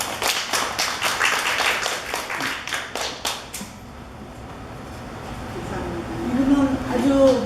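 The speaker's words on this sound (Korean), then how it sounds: "박수로 맞아주세요" Audience applause welcoming a professor at a women's literary society gathering, quick rhythmic clapping for about three and a half seconds before it stops and a voice speaks.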